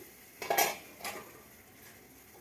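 A metal pot lid lifts with a couple of sharp clinks and a scrape, then goes quiet, and another light tap comes at the end. The sounds are close and there is no talk.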